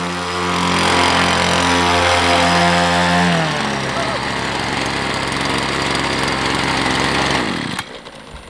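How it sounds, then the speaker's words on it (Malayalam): A small RC air boat motor running at half speed drones loudly and steadily at a constant pitch, then shifts into a rougher, busier buzz before cutting out abruptly near the end. "ഒരു പകുതി സ്പീഡിൽ നമ്മളിപ്പോൾ ബോട്ട് ഓടിക്കുന്നുള്ളൂ"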